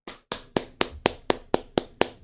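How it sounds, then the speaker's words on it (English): A single person claps nine times in a steady, even rhythm, each sharp slap close and clear with short gaps of silence between. "Let's clap it up for him."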